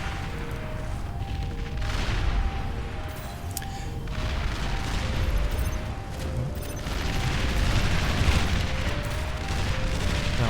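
Artillery units fire repeatedly in the real-time strategy game Beyond All Reason: a continuous barrage of booming shots and rumbling impacts, with a tonal background music line running underneath throughout.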